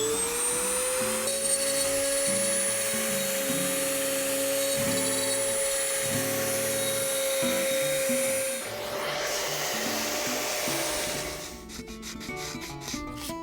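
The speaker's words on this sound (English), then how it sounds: "So now we're going to come back over and we're going to cut the spruce." A router cutter cuts a spruce guitar top for a soundhole rosette channel. A steady high motor whine sits over gritty scraping, shifts pitch partway through, and ends in a run of rapid clicking taps.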